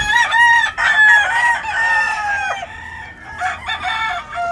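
Gallos giros crow nearby on a farm in loud, drawn-out calls that overlap one another, with short clucks and more crowing following through the moment.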